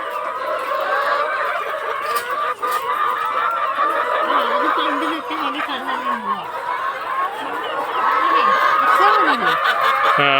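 A flock of chickens clucks on a poultry farm in a steady, dense chorus of overlapping calls that runs throughout at a fairly close, even level.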